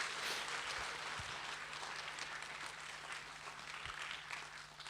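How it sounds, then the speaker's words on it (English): Audience applause in a school auditorium welcoming a grade 7 and 8 middle school band at a winter concert, a faint steady patter of clapping heard from a distance. "Give them a round of applause."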